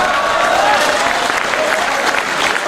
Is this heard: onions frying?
no